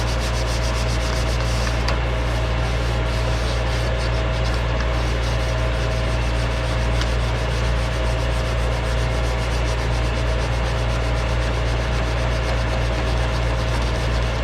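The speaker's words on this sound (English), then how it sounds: "And I'm using a Bondo spreader as a sanding block." Steady hand sanding of wood along a molding edge, a Bondo spreader used as a firm sanding block, giving a continuous close, loud rubbing scrape with no pauses and no talk.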